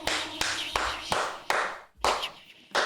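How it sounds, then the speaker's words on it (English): Sharp hand claps, about eight of them at an uneven pace, sounding close and loud in a small room, with a faint murmur of voices between them. "I'm just clapping."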